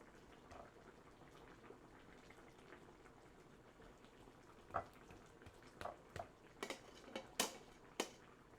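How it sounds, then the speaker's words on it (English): Thai chicken curry simmers gently in a pot, a faint low bubbling with a few sharper pops and small splashes growing more frequent toward the end, quiet and close. "That is a wonderful little simmer sound."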